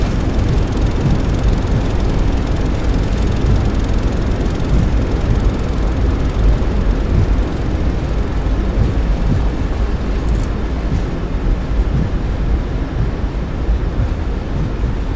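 Airliner thrust reversers roaring during a landing rollout at Newark in Microsoft Flight Simulator 2020, a loud, steady, broadband rush of jet noise that holds constant throughout with no voices.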